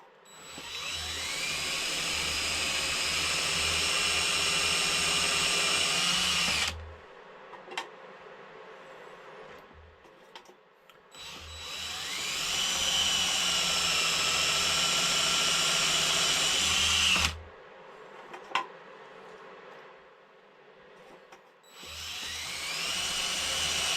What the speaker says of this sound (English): so I know that my drill bit is going in halfway